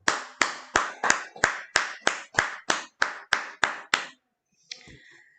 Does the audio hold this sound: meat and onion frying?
no